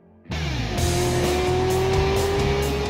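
A Porsche 918 Spyder hybrid supercar with almost 900 horsepower roars up loudly from near silence and holds a steady, rising engine drone close by, with no talk.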